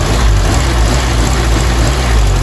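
An old car engine, from a Dacia 1300 or Renault 15 at a retro car parade, idles steadily up close, a continuous low rumble with no voices.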